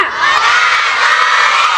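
A large group of children at a Ramadan pesantren program shouts together loudly on a count of three, one sustained, full-throated collective yell that holds strong for nearly two seconds.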